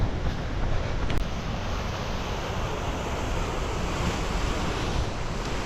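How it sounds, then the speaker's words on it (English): Steady rushing water from Whatcom Falls, a waterfall, heard as a continuous broadband roar with wind noise on the microphone, loud and unbroken with no talk. "So that is Whatcom Falls."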